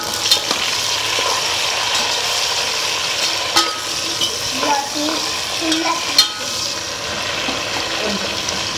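Tomatoes frying with onions in a pan for a Nellore fish curry, a steady sizzle with occasional sharp clinks and scrapes of a spoon against the pan.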